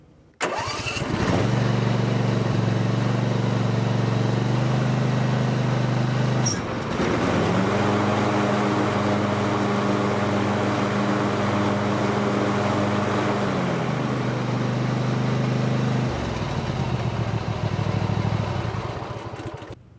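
A Husqvarna zero-turn mower starts up right after a deck belt change, its engine catching quickly and running loud and close, with one brief stumble before it settles into a steady idle and then a shift in engine tone.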